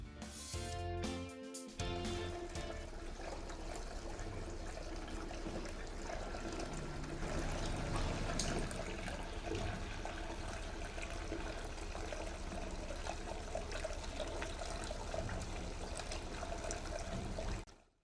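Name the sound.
water flowing in Birmingham Fountain tiered outdoor fountain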